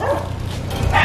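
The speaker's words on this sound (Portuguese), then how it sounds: "esse é um cachorrinho que sempre vem aqui falar com a gente, né, Bob?" A small dog gives one short, loud bark close by.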